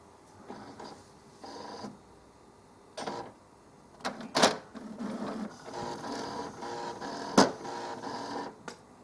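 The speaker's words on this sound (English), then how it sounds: "the cartridges are going to move across here, so we've got access to be able to change them." HP Deskjet 1050A printer powering on and shifting its ink cartridges across, a series of close mechanical whirs and clicks with short bursts and pauses, including two sharp loud clacks.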